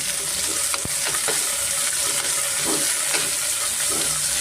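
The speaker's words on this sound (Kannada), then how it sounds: "ಹಾಗೆಯೇ ನಾನು ಪುದೀನ ಸೊಪ್ಪು ಇದ್ರ ಜೊತೆ ಸೇರಿಸ್ಕೊಂಡು ಸ್ವಲ್ಪ ನಾನು ಫ್ರೈ ಮಾಡ್ಕೊತೀನಿ" Mint leaves and onion fry together in a pan for soya pulao, giving a constant close, loud sizzle with light stirring scrapes and a sharp tap near the start. No one speaks.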